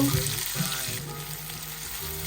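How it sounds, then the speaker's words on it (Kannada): Onions fry in a pan for Mutton Sukka, a steady close sizzle with light stirring scrapes near the start and no talking. "ಈಗ ನೀರುಳ್ಳಿ ಎಲ್ಲ ಸ್ವಲ್ಪ ಚೆಂದ ಮಾಡಿ ಫ್ರೈ ಮಾಡುವ"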